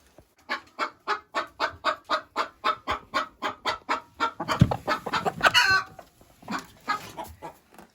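Hens in nests in a village coop in winter, clucking in a steady rhythmic series of close calls, then breaking into louder, overlapping squawks and clucks.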